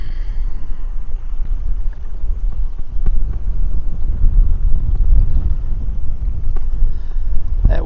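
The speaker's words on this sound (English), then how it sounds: "That wind's going to hunt me out of here" Strong wind at a shoreline fishing spot, a steady loud low roar and buffeting across the whole stretch, close and unbroken, with no voices.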